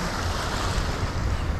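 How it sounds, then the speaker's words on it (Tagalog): Ocean waves washing onto the shore at La Union in the Philippines while fishing, a steady close surf wash with wind buffeting the microphone and no talking. "Alon na lang umaalon."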